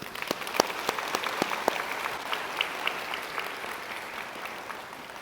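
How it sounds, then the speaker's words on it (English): An audience claps steadily for volunteer performers at a free community event, a moderate wash of applause with a few sharp nearby claps early on, fading gently toward the end. "Let's give them another round of applause."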